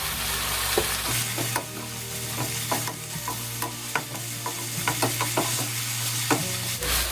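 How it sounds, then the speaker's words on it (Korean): Soy sauce mixture poured into a hot pan of stir-frying eggplant, a loud continuous sizzle with frequent sharp clinks and scrapes of a utensil stirring against the pan, close up and without talk. "이때 조금 전에 만들어준 간장 소스 지금 넣겠습니다"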